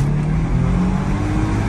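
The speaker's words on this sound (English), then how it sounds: "I can kind of start feeling it misfiring there when it comes back down to idle" A 2001 Audi A6 2.7T with a failing head gasket drops back to idle, the engine note loud and close with a slightly uneven, stumbling misfire in its steady drone.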